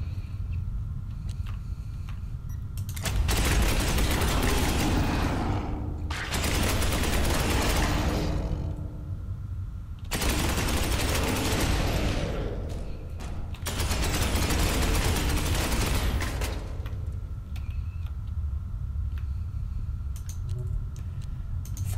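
Ultramarines firing their weapons in Space Hulk: Ascension, heard as four long, loud bursts of rapid, crackling gunfire, each lasting a few seconds and separated by short, quieter gaps.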